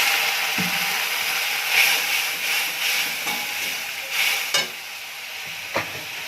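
Ginger, turmeric, chilli, cumin and coriander powders with a splash of water sizzling in a pan for an Indian curry, a continuous hissing fry broken by several sharp taps and scrapes of a stirring spoon.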